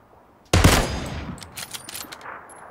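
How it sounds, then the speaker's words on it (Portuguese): Gunfire from the PUBG Battlegrounds video game: a sharp, loud shot opens a rapid burst of fire, then scattered fainter shots trail off over the next two seconds. "tô levando tiro"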